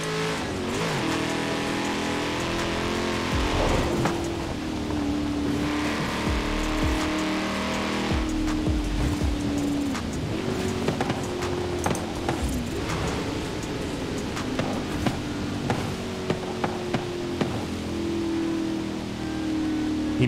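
A Ferrari Enzo engine in the racing video game Forza Horizon 4 roars continuously, its pitch climbing and dropping through gear shifts, loud and close, with occasional tire squeals.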